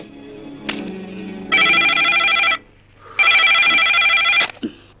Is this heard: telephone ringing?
yes